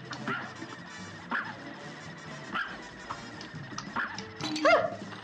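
Dog enemy yelping in the Cuphead: The Delicious Last Course video game, several short sharp yelps spaced through a busy game soundtrack, with a louder cluster of cries near the end.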